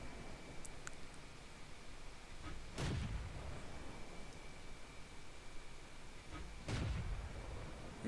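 FCM36-PAK40 tank gun in a video game fires two muffled, booming blind shots a few seconds apart over a steady low background hiss.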